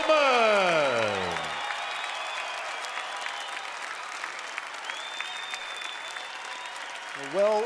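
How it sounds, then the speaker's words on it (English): An arena crowd at the Orleans Arena applauds and salutes a bodybuilder on the Olympia stage: sustained, dense clapping from a large audience, loud and continuous throughout, with a brief swell of voices or music at the start and end. "A well-deserved salute by the crowd here at the Orleans Arena"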